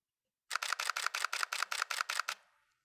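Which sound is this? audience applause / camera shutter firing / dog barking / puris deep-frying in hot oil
camera shutter firing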